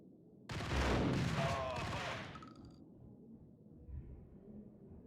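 A loud burst of gunfire from the video game Max Payne, roughly two seconds of shooting that then drops away to a quiet background with a faint thump.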